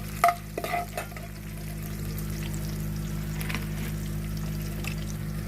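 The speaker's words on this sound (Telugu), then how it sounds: "తాలింపు గింజలు కొంచెం వేగనిద్దాం." Tempering seeds fry in hot oil with a continuous close hiss and a low steady hum beneath, opening with a few sharp spattering pops and scrapes in the first second, then settling into an even sizzle without talk.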